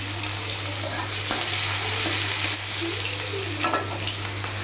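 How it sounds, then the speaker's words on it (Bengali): Chopped onions fry steadily in a pan for a tangra fish curry, a continuous close sizzle with occasional stirring scrapes and no talking. "পেঁয়াজ কুচিটাকে একটু লাল লাল করে ভেজে নেব।"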